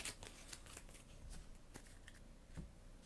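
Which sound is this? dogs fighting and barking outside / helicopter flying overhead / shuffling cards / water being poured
shuffling cards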